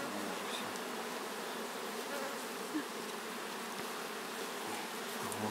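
Honeybees buzzing steadily at an apiary during the summer honey harvest, a dense continuous close hum with no talk over it.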